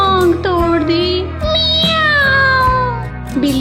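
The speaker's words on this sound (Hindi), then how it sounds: "बिल्ली की ये आवाजें सुनते हुए चिड़िया बिल्ली के पास आ जाती है।" A cartoon cat meows in a long, drawn-out, high-pitched cry that bends up and down, loud and close, repeated a couple of times in a plaintive tone, likely a voice performing the cat.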